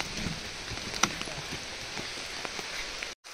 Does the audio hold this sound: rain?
yes